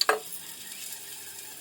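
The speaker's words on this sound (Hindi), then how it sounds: "और यहाँ मेरी दाल हो रही फ्राई।" Dal fries in a pan on a home stove, a quick metallic clink at the start giving way to a soft, steady sizzle, faint and without speech.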